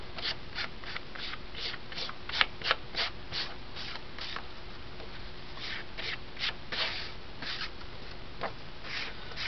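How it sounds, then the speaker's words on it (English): An ink pad dabbed along paper edges while making a birthday card gives a steady series of soft, close tapping and brushing strokes, evenly repeated throughout without talk. "And I'm just going to ink the edges."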